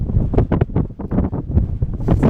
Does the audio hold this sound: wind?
yes